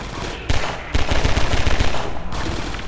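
Automatic weapon fire rattles at enemies near an elevator in the video game Half-Life 2: Episode One. Loud rapid bursts of gunshots come in two close, punchy volleys, with a short break between them.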